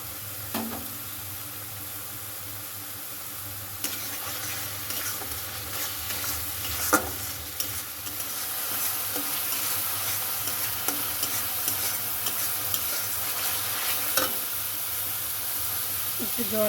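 Shimul kata fish curry frying in a pan with chilli powder and salt, giving a continuous steady sizzle and hiss broken by occasional scraping stirs and clinks of the spatula against the pan.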